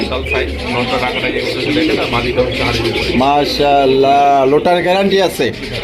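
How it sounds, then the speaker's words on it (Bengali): Lotan pigeons coo repeatedly close by at a pigeon market, their soft warbling calls rising and falling over a steady background. "মনির ভাই ও ভাই কি দেখাইতেছেন লোটন কবুতর একবারের লোটার গ্যারান্টি আছে"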